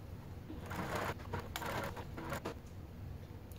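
A sewing machine top stitches strap connectors at an eighth of an inch, running in a fast steady whirr with faint clicks, close by and fairly quiet.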